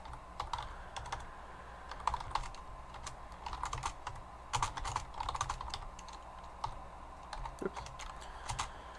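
Keys clatter on a computer keyboard as code is typed during a programming class lecture, with quick irregular bursts of clicks separated by short pauses and no talking.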